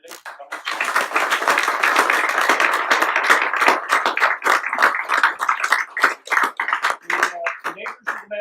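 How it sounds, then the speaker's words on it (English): Audience at a county council candidates forum clapping for the candidates, a dense sustained round of applause from a room full of people lasting several seconds before thinning into scattered claps. "give a round of applause to our candidates for coming"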